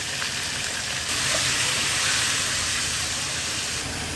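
Food fries in a pan during home cooking with gravy, green chilies and tomato, giving a steady, loud, continuous sizzle and hiss that holds for the whole stretch with no talk.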